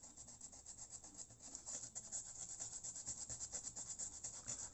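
A fibreglass pencil rubs rust off a Rivarossi model tram, giving a faint, close, continuous scratchy rasp with quick back-and-forth strokes and no voices.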